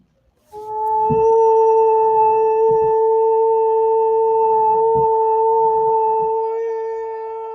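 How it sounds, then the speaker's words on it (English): A long, sustained howling cry at steady pitch, loud and close, holding for several seconds before tapering slightly at the end. "I'm hearing somebody's like painful cry coming out"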